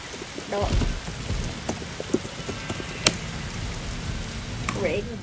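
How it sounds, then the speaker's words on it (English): Steady rain in a video game, Kaiju Universe, patters with scattered sharp drops and clicks, fairly quiet, under some faint sounds of game action. "Rain is not going to annoy me today."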